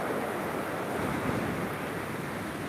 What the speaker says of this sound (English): That's a good sized waves there.